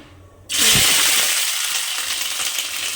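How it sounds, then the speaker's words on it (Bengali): Flat beans hit hot oil in a pan and break into a loud sudden sizzle that settles into a steady, close frying hiss, heard alone without talk. "ভালো করে সিমগুলোকে ভেজে নিতে হবে"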